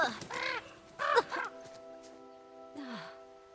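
A crow caws in the horror video game The Quarry, a few harsh calls at moderate level over a quiet ambient bed, with brief voice-like sounds around them.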